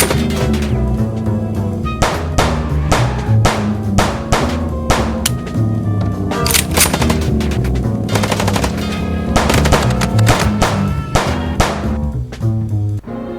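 Rapid bursts of gunfire in the game Chicken Police, loud, sharp shots in quick repeated volleys over several seconds, with no voices.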